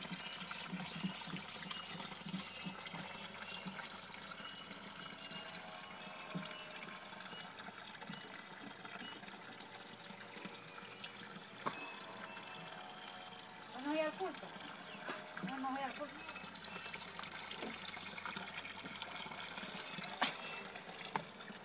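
A tap runs steadily in El Salvador, a continuous trickling and splashing water stream, moderately near, with a couple of brief clatters partway through and faint background voices.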